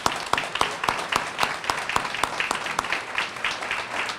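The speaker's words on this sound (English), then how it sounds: "a round of applause for our inductees." An audience at a high school athletic hall of fame induction ceremony claps steadily, with a few close, sharp claps standing out over softer applause from the room.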